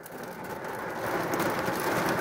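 Autumn afternoon rain falling steadily on surfaces, a soft continuous patter and hiss that gradually swells a little louder, with no voices.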